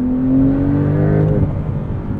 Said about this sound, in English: In sport mode, you get some pops and burbles from the exhaust.